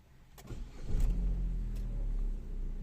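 A 2011 Opel Astra J Cosmo engine cranks and catches, with a brief starter whir followed by a low, steady idle rumble that settles in close and fairly quiet.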